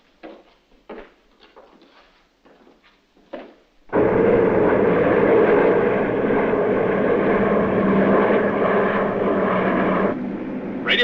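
A propeller aircraft engine roars steadily and loudly as the plane climbs. Brief voices and clicks come before it, and the engine drone then continues unbroken for several seconds.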